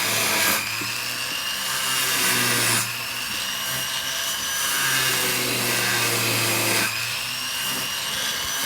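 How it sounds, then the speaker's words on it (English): Rotary polishing brush loaded with polish working a metal watch case between bezel and back plate, a steady motor hum with a hissing buffing rasp that eases and returns in several passes. "we are simply using this brush, replenishing that polish quite often initially"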